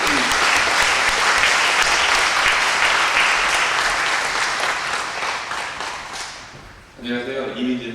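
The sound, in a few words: audience applause welcoming a missionary speaker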